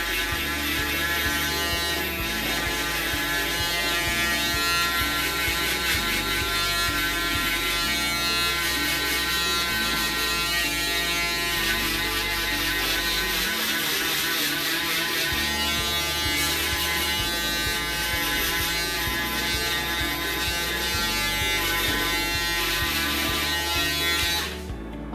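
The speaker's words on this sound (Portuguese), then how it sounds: "Depois da máquina de acabamento eu vou utilizar a shaver" Electric shaver trimming hair for a fade on curly hair, a close, steady buzzing drone that varies in pitch as it runs over the head for the whole stretch, with no talking.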